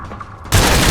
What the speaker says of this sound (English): The artifact that makes me shoot fireballs.